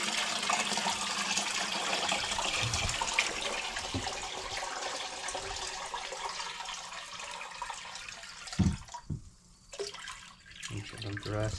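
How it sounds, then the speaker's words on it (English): Water pours and splashes steadily into a fish tank for several seconds, a continuous gushing wash that briefly breaks into gurgles and drips near the end. "And then I'm gonna add just the rest of the water"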